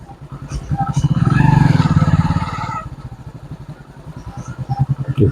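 A motorcycle rolls slowly along a village road between houses, its engine a low, uneven putter that swells briefly and then falls back to a rough, pulsing idle, with someone speaking over it.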